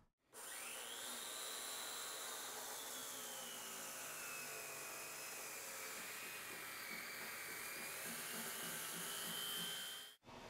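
Concrete saw fitted with two doubled-up tiger blades cuts old joint filler out of a concrete floor joint, a loud continuous whine whose pitch sags and rises as the blade loads, starting and stopping abruptly.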